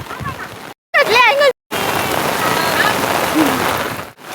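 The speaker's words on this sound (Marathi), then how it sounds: "खूप पाऊस पडतोय छत्री पण थांबत नाहीये एका जागी" Heavy rain pours steadily in a dense hiss, close and loud, broken briefly by a short snatch of speech and sudden cut-outs.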